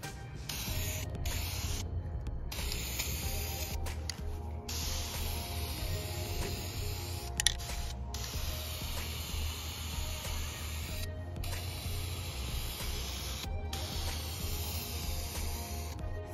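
Aerosol spray paint can laying a light dusting coat of gray onto a car bumper outdoors, a steady continuous hiss with brief pauses between passes, wind rumble underneath.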